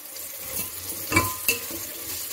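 Onions and green chillies sautéing in a pan, a steady sizzle with a few scraping stirs and clinks of a spoon against the pan, close and moderately loud, no talking.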